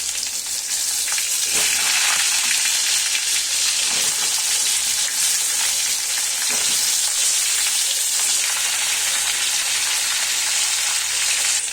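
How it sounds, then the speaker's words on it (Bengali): Pointed gourd (potol) pieces fry in hot oil in a pan, a steady, loud, close sizzle crackling continuously throughout, with a few faint knocks underneath. "এই তেলটার মধ্যেই আমি পটলগুলো একে একে ভেজে নিচ্ছি"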